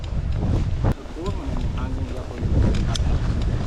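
Steady wind buffeting the microphone during a bikepacking ride in Cebu, a low rumbling roar that runs throughout beneath people talking, with boat or water noise mixed in.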